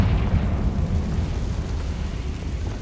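A Confringo fire spell explodes in the video game Hogwarts Legacy, a loud, sustained rumbling blast with a deep roar that holds steady and slowly fades over a few seconds.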